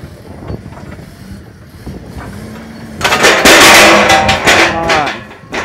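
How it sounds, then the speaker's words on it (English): A hydraulic hose bursts under load during a strength test of fittings on a loaded grapple, releasing a loud, sustained hissing spray that follows a stretch of quieter mechanical strain and background voices. "So finally what we broke is the hose."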